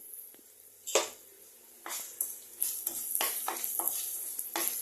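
Cumin and coriander seeds drop into hot oil in a kadai and crackle. A sharp splash-sizzle comes first, then spatula scrapes and stirring taps follow over a faint steady sizzle, close and without talk.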